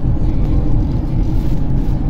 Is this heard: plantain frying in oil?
no